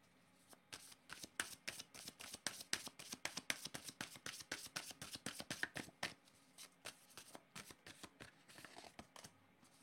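Tarot cards are shuffled by hand close up in a quiet room, a fast, steady run of crisp riffling snaps that stops partway through, followed by a few softer slides and taps as cards are drawn.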